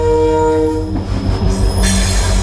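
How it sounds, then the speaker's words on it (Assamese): A train passes close by with a loud horn blast at first, then rumbling wheels and clattering wagons rolling steadily past. "এইখন ট্ৰেইন চাই লওক"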